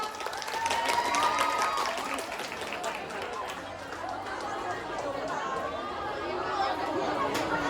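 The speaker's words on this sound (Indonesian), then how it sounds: "Beri tepuk tangan yang meriah dong." Crowd clapping and cheering mixed with lively chatter at a school play, a noisy, busy audience sound throughout.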